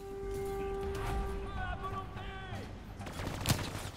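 Gunfire in Call of Duty Black Ops 3 campaign: scattered shots and bursts amid game tones and effects, with a sharp loud report near the end, under a busy mix.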